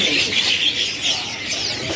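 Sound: cipau birds at Pramuka bird market

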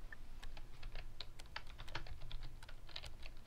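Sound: keyboard typing in the video game Emily Is Away

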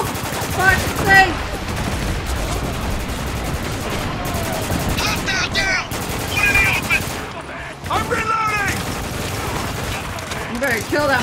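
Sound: gunfire in video game Spec Ops: The Line

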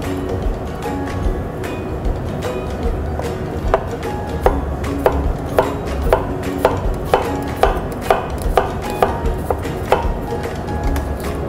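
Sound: knife chopping garlic on a board

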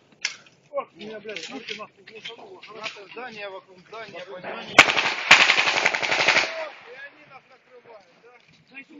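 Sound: gunfire

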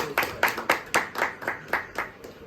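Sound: people clapping hands at a ceremony

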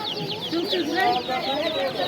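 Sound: birds at a market

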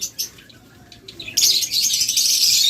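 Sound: lovebirds chirping

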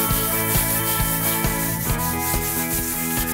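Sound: hand sanding melamine with sandpaper

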